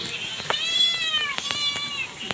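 Several house cats meow during a typhoon, with a few drawn-out rising and falling calls overlapping, close by, punctuated by sharp clicks and knocks in the background.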